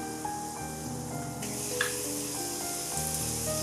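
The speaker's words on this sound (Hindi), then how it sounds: "हम उसमें से 1 टेबलस्पून बटर इसमें डाल देंगे। मिक्स किया और साथ ही हम चिकन डाल देंगे।" Chicken sizzles steadily as it fries in butter in a pan for a creamy white sauce pasta, with a constant hiss over soft background music.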